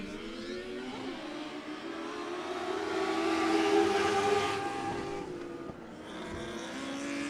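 Dirt track race cars roar off at the green flag in a sportsman-class event at night, a loud dense engine drone that swells and peaks mid-clip before easing, heard from the grandstand with no talk.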